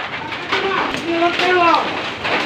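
Steady rain falls at night in a steady broadband hiss, with voices talking over it through most of the stretch.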